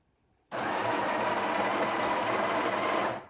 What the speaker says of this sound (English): holding the button manually, and then that will grind manually, meaning it will only grind for as long as I hold